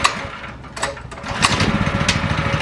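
A 212cc Predator engine on a go-kart runs nearby, a rough, buzzing small-engine putter with a quickening pulse and a few sharp clanks, no voices.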